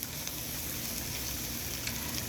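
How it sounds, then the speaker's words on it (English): Tomato paste sautéing in a pot for jollof rice with pork, a soft continuous sizzle with faint crackles, steady and fairly quiet, without talk. "Just saute that for maybe a minute so the tomato paste will soften up and get cooked."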